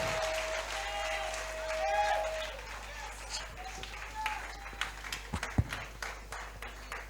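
A church congregation applauds in praise of the Lord, a broad wash of clapping and crowd noise that swells early and then thins into scattered claps, with voices speaking over it throughout.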